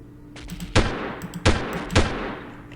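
Gunfire in the shooter game Delta Force during a mission in Uzbekistan, with three sharp, loud single shots spaced about half a second to a second apart, each with a short echoing tail.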